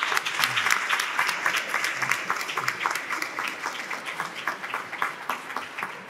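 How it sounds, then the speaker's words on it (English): An audience at a national marine eDNA workshop applauds the panel presentations with steady, fairly close clapping that lasts about six seconds. "give everybody a round of applause for tremendous presentations"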